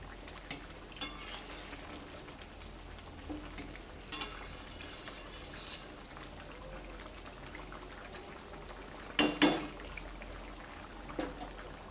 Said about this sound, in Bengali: এই সময় আমি ভেজে রাখা চিংড়ি মাছগুলোকে সব দিয়ে দিচ্ছি দিয়ে ভালো করে আবার একটু মিশিয়ে নেবো